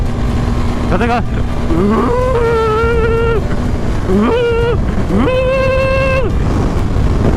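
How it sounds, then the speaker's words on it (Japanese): Strong wind roars steadily while riding a 250cc motorcycle on an expressway, a loud constant rush that fills the whole stretch, with a voice speaking over it in several bursts. "いやー、風が強いよ。"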